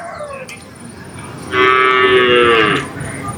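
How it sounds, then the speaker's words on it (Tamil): Cattle moo loudly and close, one long harmonic call lasting over a second, amid the background clamour of a temple cattle market where calves and cows are tied up near the temple entrance. "இந்த இடத்துல மாடுகள்லாம் கட்டியிருக்கு"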